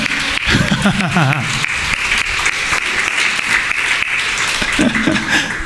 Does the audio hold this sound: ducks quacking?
no